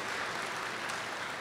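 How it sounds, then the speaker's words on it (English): Graduates and guests at a college commencement clap for their parents, a faint, steady patter of applause from a large crowd heard from a distance. "So let us give your parents a warm round of applause."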